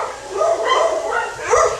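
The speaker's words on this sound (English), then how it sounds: "my dogs are about to start barking" Pet dogs bark indoors near a door, a short burst of loud, close barks and yips lasting under two seconds, with no speech.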